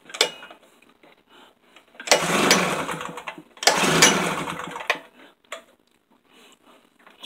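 Pull-starting a Tailgator small engine that refuses to start: two long loud bursts of rough, rattly cranking a couple of seconds each, with quieter clinks and shuffling between them and no engine catching.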